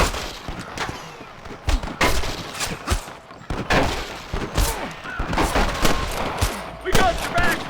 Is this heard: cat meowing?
no